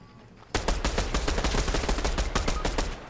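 Rapid bursts of video game gunfire erupt suddenly and continue in a dense, rattling stream during a trios match around a rooftop and a barn, loud and close with no talk.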